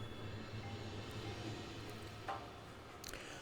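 A train in the video game Factorio rolls along its rails with a steady low rumble and faint clatter, moderately quiet and continuous with no talk.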